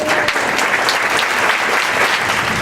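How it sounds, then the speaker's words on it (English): An audience at a tech meetup on artificial intelligence applauds a speaker coming up, sustained close clapping at a loud, even level with faint crowd murmur. "give him a round of applause"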